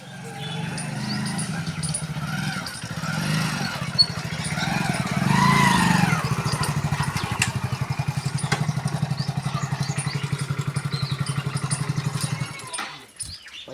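A motorcycle engine close by, revving and then settling into a steady, rapid idle putter; voices talk over it at first before the engine cuts off near the end.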